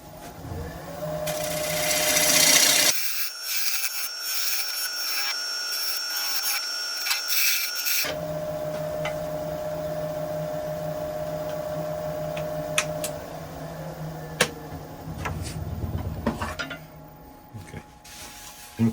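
A lathe turns a rippled cedar base while a tenon is cut, a steady mechanical whir with grinding tool contact at the start, a pause in the cutting, then continued lighter scraping and spindle hum with brief knocks near the end.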